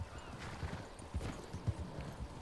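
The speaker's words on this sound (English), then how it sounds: "Look at my horse, Al." Horse hooves clip-clopping in Red Dead Redemption 2, a steady run of soft, muffled thuds at a moderate pace, fairly quiet, with no talking.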